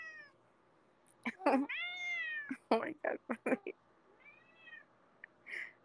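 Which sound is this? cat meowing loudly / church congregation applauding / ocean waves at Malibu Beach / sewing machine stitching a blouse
cat meowing loudly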